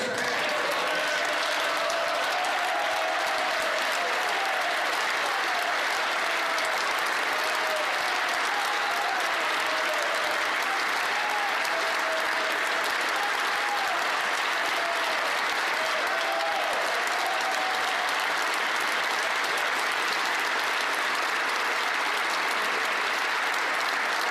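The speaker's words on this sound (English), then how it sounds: "members will also want to applaud" Sustained applause from members in the House of Commons chamber, a dense, even roar of many hands clapping that fills the room without pause, with faint voices underneath.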